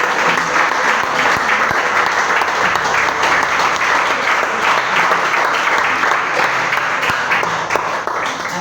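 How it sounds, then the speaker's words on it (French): A church audience at a French-language service gives loud, sustained applause and cheering, a thick continuous roar of clapping that fills the whole stretch. "Je voudrais que vous acclamiez encore."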